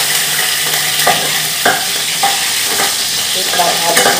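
Garlic fries in a pan over a wood fire, giving a loud, steady sizzle with repeated sharp stirring clacks against the pan, close up and free of talk.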